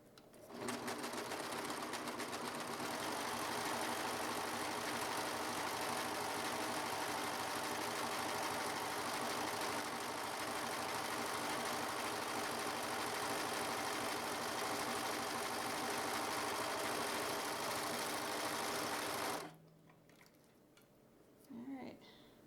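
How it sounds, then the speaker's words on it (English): Serger overlocking the edges of a piece of cross-stitch fabric: a steady, fast mechanical whirring and chatter that runs without pause for about twenty seconds, then stops, leaving a faint brief rustle, close by. "I'm going to serge all the way around my fabric. And now my fourth side."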